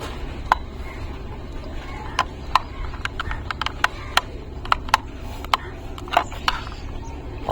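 Wire terminal screws being tightened on a small 50 W solar battery setup, a series of sharp close clicks and ticks at irregular intervals over a low background hum, no speech.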